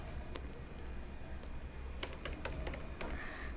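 Fingers tap out a table name on a computer keyboard in a phpMyAdmin SQL query: scattered single keystrokes at first, then a denser cluster of crisp clicks, close up in a quiet room with no voices.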